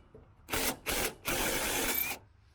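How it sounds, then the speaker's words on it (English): Ratchet loosening the 10 mm bolts that hold the radiator to the cross member on a 2007 Dodge Ram 3500 with a 24-valve Cummins: three close, loud bursts of rapid clicking, the last the longest, with no talking. "We're going to pull our 10 millimeters that hold the radiator to the cross member"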